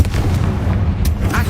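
A Confringo fire spell in the Hogwarts Legacy video game goes off as a loud, close, booming blast with a rumbling body that fills the short moment.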